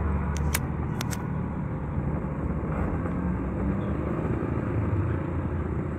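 A steady, dense engine rumble of a Kawasaki Ninja 150 RR two-stroke motorcycle runs without a break on a short, slow test ride, with a few faint ticking sounds near the start.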